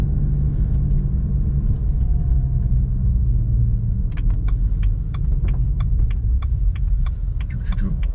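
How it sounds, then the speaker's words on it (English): Car with a ZF 8HP70 eight-speed automatic gearbox and a tuned turbo engine, a steady low engine and road rumble with a shift change around the midpoint, followed by rattling, ticking interior noise. "I should probably just shut up and let you listen to the shifts."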